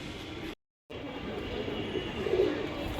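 Pigeons cooing, among them a Jabra Army fancy pigeon in a loft of racing Giribaz and fancy birds: soft low coos under steady background noise, with a brief total dropout near the start.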